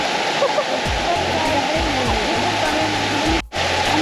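A waterfall near Ushuaia, Argentina, roars loudly and steadily up close, its broad rushing noise filling the clip without a break, while a voice speaks faintly underneath.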